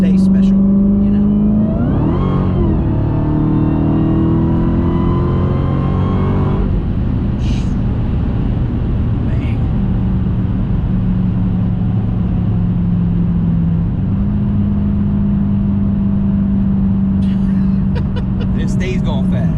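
A Dodge Challenger Hellcat Redeye builds speed with a deep, loud engine drone that swells into a rising rev, then settles to a steady roar heard from inside the car as people talk.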